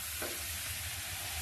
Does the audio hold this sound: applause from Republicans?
no